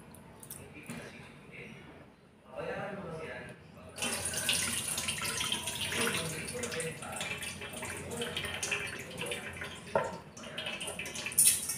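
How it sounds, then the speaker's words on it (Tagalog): Glutinous rice is washed under a running tap, water gushing steadily into a container with squishing as the grains are rubbed, following a quieter start where a person speaks faintly. "hugasan natin malagkit ng 2 times"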